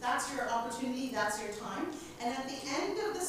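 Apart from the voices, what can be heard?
No everyday noises stand out.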